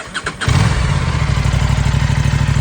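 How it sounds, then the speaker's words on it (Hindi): Aprilia RS457 parallel-twin motorcycle engine catching after a brief crank, then settling into a loud, steady, close-up idle with an even throbbing pulse. "एक बार ज़रा आवाज़ सुन लेते हैं इंजन की ऑफ द पैरेलल ट्विन।"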